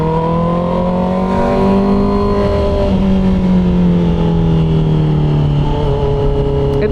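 A 2024 Honda CB650R motorcycle fitted with a new full exhaust system revs steadily and loudly up close, its harmonic engine note sliding down in pitch and then climbing again, with no voices.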